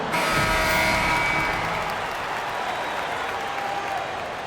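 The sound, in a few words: crowd applause in a basketball video game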